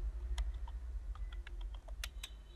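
Keys clatter on a computer keyboard as a folder name is typed, a dozen or so quick, distinct clicks at close range over a low background hum.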